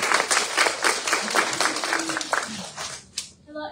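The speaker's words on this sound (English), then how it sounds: "So give them a round of applause." Audience applause at a community membership meeting, a short round of brisk clapping from a modest crowd in a hall, tapering off with a few last claps near the end.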